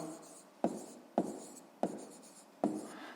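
Pen or chalk writing down a maths condition, four distinct scratchy strokes spaced roughly half a second apart, each a sharp onset trailing off, close and fairly quiet.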